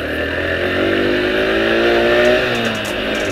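A Yamaha YTX 125cc motorcycle engine revs up steadily, its pitch climbing as it accelerates close by, loud and continuous with no talking.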